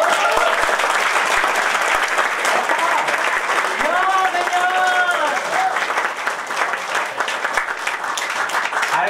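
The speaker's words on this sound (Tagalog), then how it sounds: "Palakpakan naman po natin ang maraming" Lively crowd applause at a Santé Extreme event, continuous and loud for several seconds, with cheering voices and a few brief vocal calls rising above the clapping.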